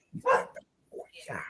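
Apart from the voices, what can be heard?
dog barking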